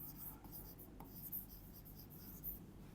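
Writing a sentence on a board during an English grammar lesson: a steady, close, dry scratching of strokes running throughout, with a faint room murmur underneath.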